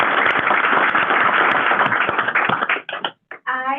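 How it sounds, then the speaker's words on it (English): A round of applause at a Board of Education meeting, with steady dense clapping that thins out near the end and gives way to a voice speaking. "One more round of applause for that."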